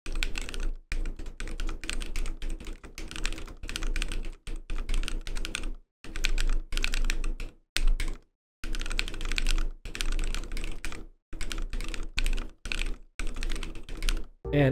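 Fast typing on a mechanical keyboard with scooped keycaps, dense bursts of clacky keystrokes close up, broken by brief pauses, with no talk over it.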